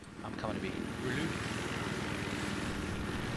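Jet aircraft roaring overhead in a first-person shooter video game, a loud broad engine rumble that swells around the first second and holds steady throughout, with players talking over it.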